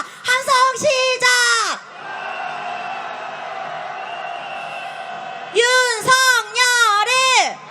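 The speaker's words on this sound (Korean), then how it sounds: "반일 기세 높이 세워서 함성 한번 질러보겠습니다" A large crowd of marchers at a candlelight protest march lets out loud, rising shouts of a cheer in two bursts, with a lower, steady murmur of the crowd between them.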